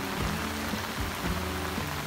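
Steady rain falling outdoors, a dense, even hiss of drops striking surfaces close by, continuous and fairly loud with no voices.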